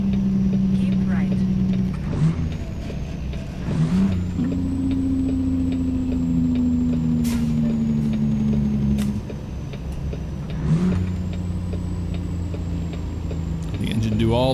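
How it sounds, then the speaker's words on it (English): A truck engine in American Truck Simulator drones low and steady with engine braking, its pitch shifting and slowly dropping between gear changes, with brief clicks and bumps along the way. "Let's go low on the engine brake."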